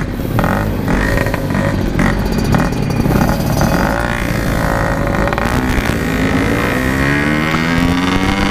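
A Yamaha RX King two-stroke motorcycle speeds along, its engine droning loudly and continuously with rising revs and shifting pitch, close up, with wind rush and no talk.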